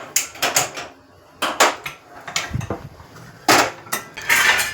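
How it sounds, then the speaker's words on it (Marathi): A metal tava griddle pan is set down on a home stove with several sharp, close clanks and scrapes separated by short pauses. "आता तवा हे इकडे ठेवून दे"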